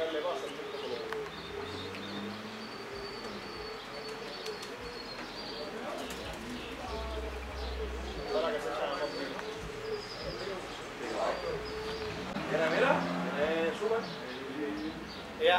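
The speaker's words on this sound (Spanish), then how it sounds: "Y entró un palomo negro" Pigeons coo softly in a racing pigeon loft during a trap test, with low repeated throaty coos and a few chirps, while people talk quietly nearby.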